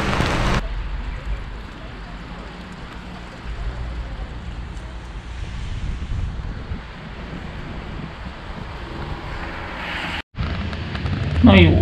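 Steady broadband patter of rain, fairly close and constant, with some wind rumble underneath and a brief dropout near the end.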